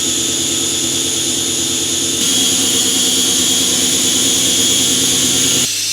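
A CNC router with a 2-flute bit mills aluminium under a light flow of coolant, making a loud, steady, high mechanical whine with ringing tones that shifts in pitch partway through and cuts off just before the end.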